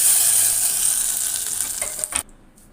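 Hot ghee with golden fried cashews hitting moong dal payasam gives a loud, close hiss of sizzling that fades over two seconds, ending in a few sharp crackles before sudden near-silence.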